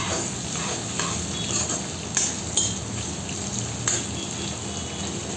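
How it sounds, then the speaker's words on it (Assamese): Bhut jolokia chilies, ginger, garlic and spices frying in a pan, a steady soft sizzle with occasional scrapes and clinks of stirring, fairly quiet and without talk. "গোটেইখিনি মই ধুনীয়াকৈ ভাজিম আৰু গোটেই মছলাখিনি মই ৰঙা হ'বলৈ দিম"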